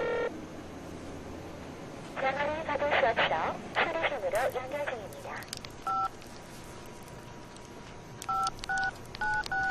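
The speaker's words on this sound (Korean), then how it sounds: "왜 전화를 안 받지?" A telephone call is dialed in a Korean TV drama. A person speaks first, then short, clean keypad tones beep singly and in quick pairs, clear and close.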